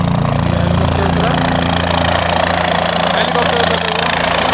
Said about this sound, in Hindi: ये हेलीकॉप्टर उतरा